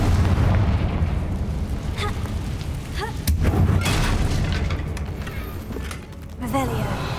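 Confringo spell explosions in Hogwarts Legacy, booming bursts that stand out from a dense, constant wash of game sound and noise.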